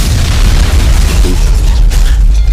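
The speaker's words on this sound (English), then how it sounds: "The deafening explosion of a mortar strike." A mortar strike explodes in a loud, deep boom that fills the whole short stretch, rumbling heavily with a burst of debris noise near the end.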